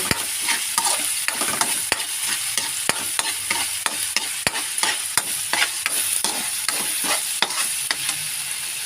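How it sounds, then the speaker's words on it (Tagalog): String beans frying with oyster sauce being stirred in, a constant bright sizzle with regular sharp clicks of a spatula against the pan, close and without talk. "ilagay natin yung oyster sauce. Halo-haloan natin."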